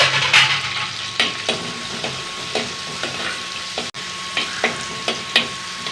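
Small shallots, a piece of ginger and green chilies sizzle in a pan, with a steady frying hiss broken by repeated scraping stirs at close range.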